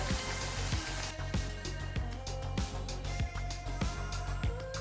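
Thattai, Diwali rice crackers, deep-frying in hot oil: a steady bubbling sizzle, close and fairly loud, broken by regular soft clicks and taps about every half second.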